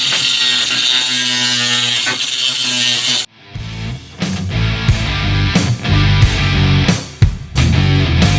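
An angle grinder grinding paint off steel pieces of custom Jeep half doors, a steady loud whine that cuts out, then returns in repeated short bursts.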